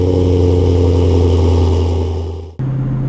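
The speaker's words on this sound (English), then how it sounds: "we're going to do 2 cold starts this video" Manual 2017 Camaro SS V8 firing up cold, a loud steady rumbling idle with strong low harmonics that tapers off, then cuts out sharply and restarts into a lower idle.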